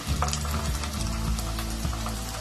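Onion frying with chilli paste in a pan gives a steady, moderate sizzle, with a few soft scrapes and clinks of a utensil and no talking.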